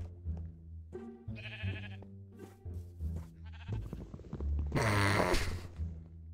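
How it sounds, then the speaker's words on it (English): Sheep in the video game Minecraft give several distinct bleats, loud and close, separated by short gaps, with one long wavering bleat near the end and no talking over them. "Why is the sheep following me?"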